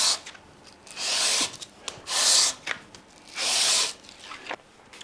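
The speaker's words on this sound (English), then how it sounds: "I've got a nice new bit of sandpaper. Literally a few passes on each side." Sandpaper worked by hand along the wooden neck of an SG-style electric guitar build, giving three long, loud abrasive rasping strokes with brief quieter scuffs between them, close and alone with no talking.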